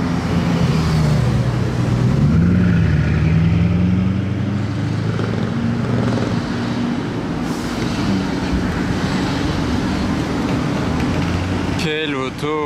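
A Bugatti Chiron drives past on a Monaco street with a loud, close engine roar that rises and falls while people talk over it.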